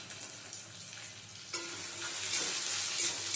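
Tomato pieces, raisins and cashews sizzle in oil in a pan over a low gas flame while being stirred, with a steady frying hiss that swells louder midway and scraping stirs throughout.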